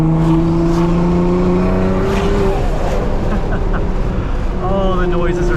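A 700-horsepower Nissan R35 GT-R driving through canyon roads, its engine droning loudly from inside the cabin with rising and falling revs as it pulls through corners, a steady rumbling roar throughout.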